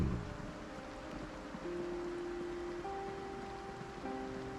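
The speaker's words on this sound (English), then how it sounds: "Ooh, rain." Steady rain falls in the Project Zomboid game world, a constant close hiss of rain on surfaces, with a faint held musical tone underneath.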